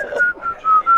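A person whistles a few short, clear notes up close, with brief gaps between them.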